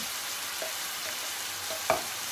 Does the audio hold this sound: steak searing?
yes